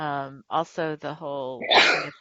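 A sneeze bursts out near the end of a stretch of close conversational speech, a single loud, breathy blast right after the talking.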